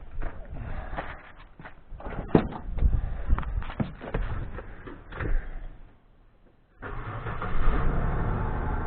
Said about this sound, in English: Then you back up the truck.